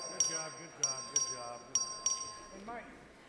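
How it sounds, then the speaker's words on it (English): A voting bell rings in a legislative house chamber during a record vote: several short, sharp metallic strikes spaced irregularly, fairly close, over faint room murmur. "Clerk, ring the bell."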